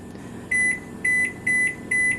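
Kitchen oven timer being set for banana bread bars, giving four evenly spaced electronic beeps, each a short bright tone, close and clear over a low room hum.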